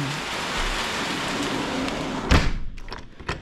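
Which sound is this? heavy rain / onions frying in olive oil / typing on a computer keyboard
heavy rain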